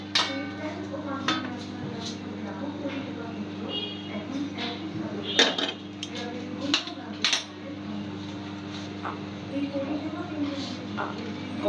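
Korean-style hot and spicy chicken instant noodles are served onto a plate with soft scraping and light clinks of a utensil against the dish, close but quiet under a steady hum.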